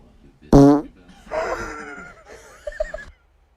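A woman's fart bursts out loud and tonal, a sharp buzzy blast followed by a rougher, sputtering stretch and a few final squeaky puffs, all close and alone.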